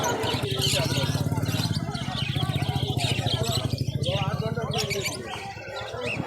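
Cockatiels, including grey cockatiels, and lovebirds chirp and tweet busily in a crowded market bird stall, bright overlapping calls close by alongside a steady low background hum, with people talking over them throughout.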